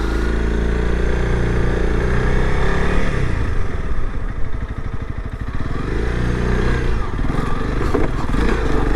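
Honda CRF300L Rally motorcycle riding a single-track trail, its single-cylinder engine loud and steady with revving surges and a brief dip midway, up close with no talk.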